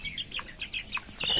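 Black chickens on a poultry farm give short clucks and chirps close by as one is caught for weighing, a few quick calls over a faint background.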